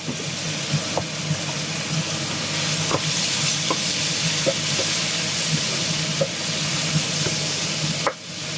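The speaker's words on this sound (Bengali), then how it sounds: "হলুদ জিরা দিয়ে এটাকে ভালো মতো ভেজে নেব" Courgette frying in a pan with turmeric and cumin, a bright, dense sizzle running steadily throughout with occasional soft clicks of stirring, close and fairly loud.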